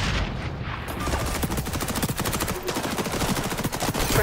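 Rapid gunfire from a shotgun and other weapons during a multiplayer match of the video game XDefiant, a dense continuous barrage of sharp repeated blasts with no talk.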